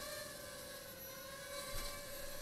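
Small Holy Stone HS107G quadcopter drone hovering in flight, its motors giving a steady, faint high-pitched whine with a constant tone and slight swells in level.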